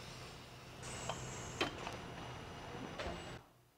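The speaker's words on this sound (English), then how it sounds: "This machine is a vacuum to remove debris from the magnetic" A vacuum machine in the Eminence speaker factory removes debris from a speaker's magnetic gap, giving a steady high whine with a few clicks and clunks before it cuts off.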